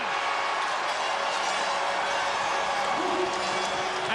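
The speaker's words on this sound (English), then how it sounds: "as the crowd come back to life" A football stadium crowd roaring after a goal makes a dense, sustained wash of cheering and noise, loud and continuous throughout.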